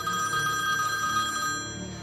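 A telephone bell rings steadily and insistently, alone and fairly close, in a dramatised crime reconstruction.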